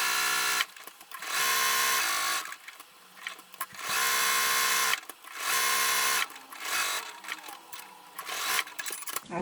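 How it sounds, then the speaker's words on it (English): A sewing machine stitches around a quilt square, running in three loud sustained bursts with short pauses, then a looser, uneven stretch of stitching toward the end, close up with no talk. "I've got my square stitched all around"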